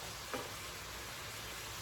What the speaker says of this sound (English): we're going to let that sizzle